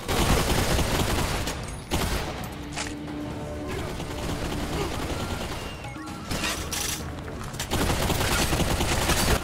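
Rapid bursts of gunfire and impacts ring out in the VR shooter Bulletstorm VR, loud volleys with brief lulls around the second and sixth seconds.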